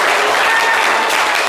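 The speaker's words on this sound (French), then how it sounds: "Applaudissez bien" A studio audience claps hard and continuously, a dense, loud, even wash of applause with no breaks from start to finish.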